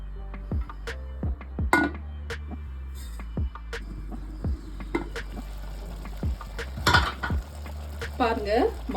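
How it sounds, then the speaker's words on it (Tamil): Sprouts and masala saaru, a Karnataka-style curry, cook in a pot over low flame with a soft bubbling hiss. Close, scattered metallic clinks of a spoon against the pot sound through it, with no speech. "பாருங்க மசாலா இந்த முளைக்கட்டின பயிறு எல்லாமே சேர்ந்து நல்லா கொதிக்குது."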